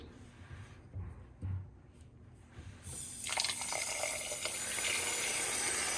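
Water from a tap pours into a canning jar holding a whole chicken, starting with faint dribbles and then rising to a steady, close rushing fill that continues to the end.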